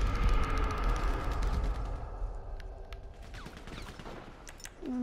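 Steady, rumbling machine gun fire in the GTA 5 Online video game, loud and continuous at the start and easing slightly over the seconds that follow, with no talk over it.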